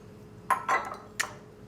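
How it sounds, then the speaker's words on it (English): Sugar, egg and milk added to a banana bread batter bowl: a few quick bright clinks and knocks of utensil and bowl, close and brief, with no voices. "in goes our sugar, in goes our egg, our milk"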